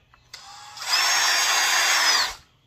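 A power drill with a hole-saw bit for granite starts with a short click, then whirs steadily at high speed for about a second and a half before winding down.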